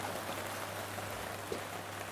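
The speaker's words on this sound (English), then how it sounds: "it's a horrible, horrible rainy day. You can probably hear it." Steady rain falls outdoors on a gloomy day, a soft, even hiss of drops that never lets up, faint and continuous with a low hum underneath.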